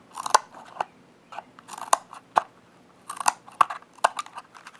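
The small scissors on a Squirt P4 multi-tool snip repeatedly, giving crisp close clicks in uneven clusters, loud and clear with no talk.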